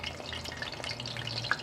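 Fish deep-frying in hot oil, a steady dense sizzle and bubbling with small crackles throughout, close and continuous with no voices.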